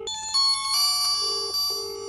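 A Samsung Galaxy A3 phone ringtone plays a bright electronic melody, steady and fairly loud, with no voices.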